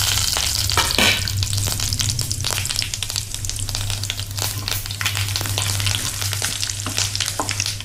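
Mustard, cumin and white sesame seeds fry loudly in hot oil, a dense steady crackle and sizzle with sharp popping bursts scattered throughout and no voices.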